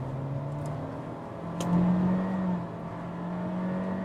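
A 2023 Honda Civic RS engine pulling hard under full throttle, its drone swelling louder in the middle and rising steadily in pitch, heard from inside the car with no talking.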